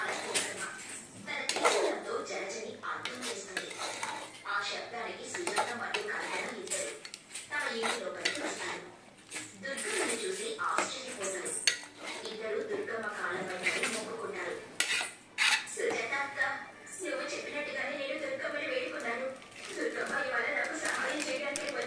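A spoon scrapes and clinks around a pot of mutton curry as chili powder is mixed in, with repeated metallic knocks and stirring scrapes at close range while someone talks over them.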